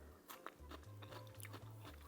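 Someone bites into fresh crunchy cucumber during a meal with spicy Korean fire noodles and Oaxaca cheese, with a couple of close, wet crunches and chewing over a low steady hum.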